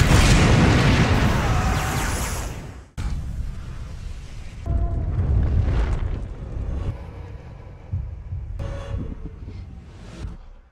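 Explosion in the film Terra Nova, a loud booming blast up front that decays into rumbling debris and softer thuds and whooshes afterward.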